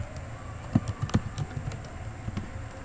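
Typing on a computer keyboard while entering VBA code in Microsoft Excel, a few irregular soft key clicks close by in a quiet room, with no talking.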